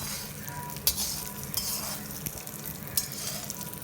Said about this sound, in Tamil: இப்போ நம்ம மிளகா வத்தலை போடலாம். இப்போ நம்ம இதை வதக்கலாம்.